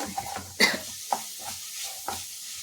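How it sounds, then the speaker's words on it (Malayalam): A soft sizzle of food sautéing in a pan, broken by a few scraping stirs of a spoon at irregular intervals. "ഇതൊന്ന് ശരിക്കൊന്ന് വഴറ്റി വരണം"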